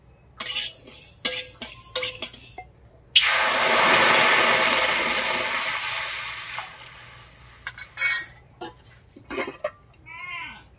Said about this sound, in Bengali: এবারে জল দিয়ে ঢাকা দিয়ে সেদ্ধ করে নেব।